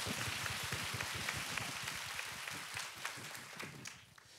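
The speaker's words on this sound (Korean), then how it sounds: "박수로 맞아주세요." Applause from a concert audience welcoming a composer and cast members onto the stage for a Q&A, a dense, steady patter of many clapping hands that fills the room and tapers off slightly toward the end.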